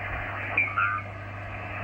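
HF radio audio plays through an AOR AR5001D receiver hooked to an antenna, a band-limited hiss with a low steady hum and a couple of brief tonal chirps.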